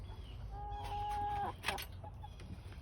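Backyard hens clucking, with one steady drawn-out call and a few sharper clucks, close by and fairly quiet against a low background hum.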